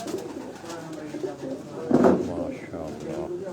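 Sialkoti pigeons on a rooftop loft, soft repeated coos and throaty burbles up close, with a louder rustle near the middle as someone talks over them.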